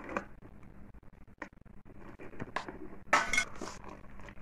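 A spoon scrapes and clinks against a bowl while eggless fruit cake batter is mixed, giving quiet irregular scraping with a few brighter clinks near the end.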